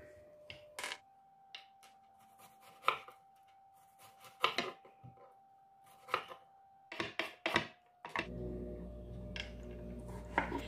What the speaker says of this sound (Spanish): voy aprovechando el tiempo y voy picando toda la verdura